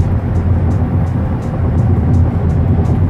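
A Dodge Challenger passes by amid steady road rumble and broad traffic noise, its engine blending into a continuous wash of sound heard from inside or near a moving vehicle, without speech.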